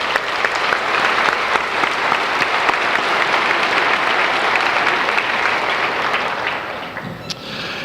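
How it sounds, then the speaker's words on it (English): Sustained, full audience applause at a 2019 Highland Community College commencement ceremony, dense steady clapping that tapers off near the end. "Let's give him another round of applause."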